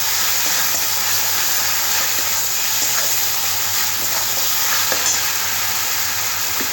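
Spices with Kashmiri chili powder fry in a pan for dal fry, giving off a constant bright sizzle and hiss with faint stirring scrapes and no voices.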